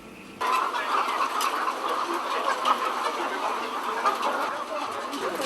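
Laying hens and broiler chickens on a large poultry farm: a dense, continuous chorus of clucking and chattering from many birds, steady and fairly close throughout.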